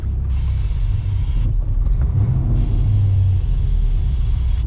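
Odd mechanical noise from a 1983 Mercury Capri RS, likely a vacuum line, heard as a loud hissing rush that cuts in and out over a steady low engine rumble, with a brief tonal whine in the middle.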